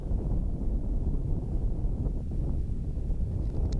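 Steady, blustery wind roars across the bare, exposed Col de la Seigne mountain pass, buffeting the microphone with a continuous low rumble.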